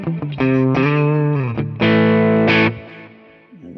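Distorted electric guitar, a PRS SE with both humbucker pickups, plays sustained chords and short stabs with a thick tone, loud and close, ringing out before fading.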